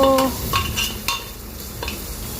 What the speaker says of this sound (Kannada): ಸಾಫ್ಟ್ ಆಗೋ ತನಕ ಮಾಡಿ ಫ್ರೈ ಮಾಡ್ತಾ ಇರಬೇಕು